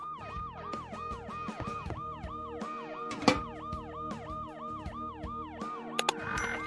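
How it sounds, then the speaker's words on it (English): Ambulance siren in the Dead Synchronicity adventure game, a steady rapid wailing warble repeating throughout, moderately loud and unbroken, with a sharp knock partway through and a few clicks near the end. "the ambulance's deafening siren"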